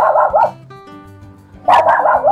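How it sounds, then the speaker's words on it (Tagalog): A dog barks loudly and close by, two bursts of sharp, repeated barking separated by a short quieter pause, with no voices over it. "dito si yung aso nating kaibigan"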